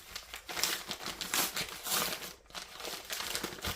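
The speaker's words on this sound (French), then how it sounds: "j'ai juste ouvert l'enveloppe" A paper envelope holding a cross-stitch kit of canvas and threads is torn and opened up close, loud crinkling and ripping paper in irregular bursts with a brief pause midway, no talking.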